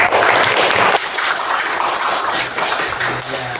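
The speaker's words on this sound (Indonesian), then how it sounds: "tepuk tangan untuk kita semua ya" A classroom of students applauding at the teacher's prompt: dense, steady clapping that fills the whole stretch, loudest in the first second, then carrying on evenly at a slightly lower level with no talk over it.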